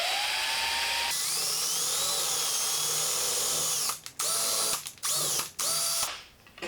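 A power drill boring a hole for an eye hook while a bubble wand is being built whines loudly and steadily, then stops and restarts in several short stuttering pulses near the end.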